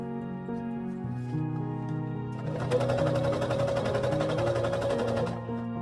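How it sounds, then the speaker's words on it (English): A sewing machine stitches wool and cotton twill for an 1890s walking suit skirt, starting a steady, rapid mechanical whir midway and running for about three seconds over soft background music before stopping. "I'm just sewing the two pieces very loosely together so that they don't shift when I put them under my sewing machine."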